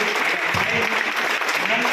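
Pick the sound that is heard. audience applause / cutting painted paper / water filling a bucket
audience applause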